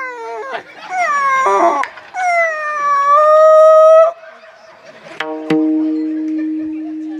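A human voice imitating a dog howling during a comic kirtan performance: long, rising and wavering howls, a broken whimpering stretch, then a final sustained howl, loud and close.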